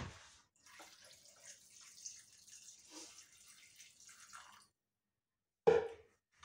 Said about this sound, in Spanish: Le añado agua hasta que cubra.